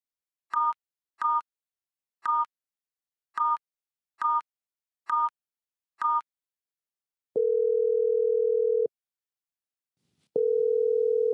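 A telephone line before a business call is answered: seven short dialing beeps in a quick uneven run, then two long steady ringing tones separated by a pause, clean and alone with no voices.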